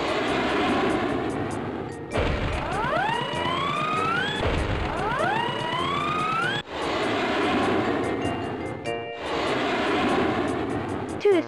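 Rocket flying through space in the 1995 Brøderbund educational game Math Workshop: a loud synthesized whooshing tone with rising, swooping pitch sweeps, repeating in several bursts over steady background music.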